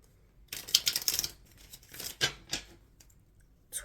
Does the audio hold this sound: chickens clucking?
no